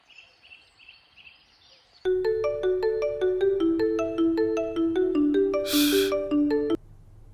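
A phone rings during an outgoing call, playing a steady, repeating electronic ringtone melody for about five seconds after a quiet start, then stopping abruptly.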